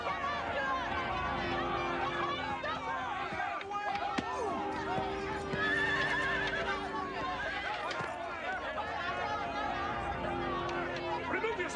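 A horse neighs and whinnies amid a medieval village scene, with hoof clip-clops and a murmuring crowd of voices and chatter running steadily underneath throughout.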